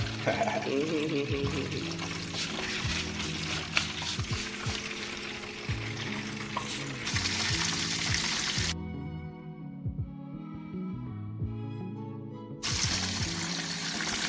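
Two fish fry in hot oil for Jamaican-style brown stew fish, giving a steady crackling sizzle and bubbling with a brief quieter stretch, while people talk nearby.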